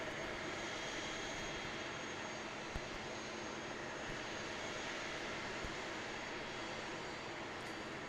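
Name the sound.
ATR 72-600 turboprop aircraft at Christchurch Airport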